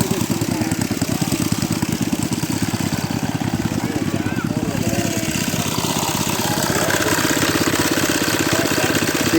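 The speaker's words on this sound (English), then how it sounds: "These little engines saved a lot of work on the farm." A small antique farm engine drives a little pump at a heritage day, chugging in a steady rapid rhythm close by, loud and continuous throughout with crowd noise around it.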